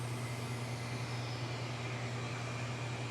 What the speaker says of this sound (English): We're also gonna go over here and open the drain valve.